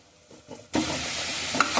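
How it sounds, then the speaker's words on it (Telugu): Chopped onion hits hot oil in a pot with a sudden loud sizzle after faint stirring, then a steady close frying hiss with a small clink near the end. "గిన్నె పెట్టి దాంట్లో ఆయిల్ వేసి బాగా ఒక ఉల్లిగడ్డ లావు ఉల్లిగడ్డ కట్ చేసి వేసినాను"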